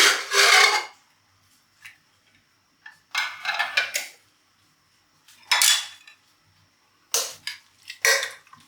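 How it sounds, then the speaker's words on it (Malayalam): A kitchen pressure cooker is opened after cooking vegetables for stew: several close bursts of metallic clanking and scraping from the lid and pot, separated by quiet gaps, with no talk. "കുക്കർ നമുക്ക് തുറന്ന് നോക്കാം."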